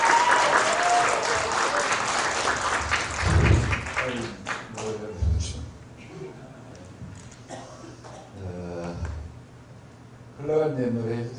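Audience applause at a Korean literary cafe stage show: a dense burst of clapping fills the opening seconds, then thins out as a voice takes over and talks through the rest.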